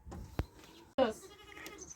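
Two short bleats from a nearby sheep, one thin and sharp, the second louder and wavering, with faint background noise between.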